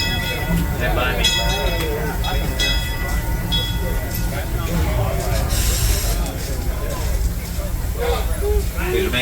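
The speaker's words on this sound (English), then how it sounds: "Please remain seated, folks. Train still in motion." Disneyland Railroad train rolling steadily nearby, a continuous rumble and clatter of rail cars with a bell and mechanical noise, while a voice speaks over a loud crowd throughout.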